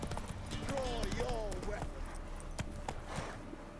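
Roach, the horse in The Witcher 3: Wild Hunt, clip-clops along with steady close hoofbeats under a mix of game sound, a voice speaking over part of it.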